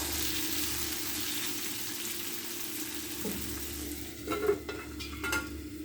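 Capsicum and peanuts cooking in a pan give a steady, fairly quiet sizzle, joined near the end by a few close clinks and scrapes of a utensil against the pan.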